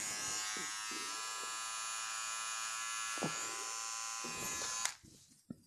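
A Syska electric beard trimmer runs with a steady, close, high buzzing whine for several seconds, with a few soft clicks and handling knocks, then switches off and falls quiet.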